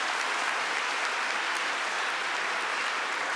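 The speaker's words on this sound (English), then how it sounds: "A round of applause for our speakers once again." Audience at a Python conference clapping for lightning talk speakers, a continuous even wash of applause at moderate distance with no breaks.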